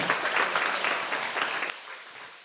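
A church congregation applauds for the choir after a Sunday service hymn, a lively burst of clapping that fades out over a couple of seconds, heard from within the hall.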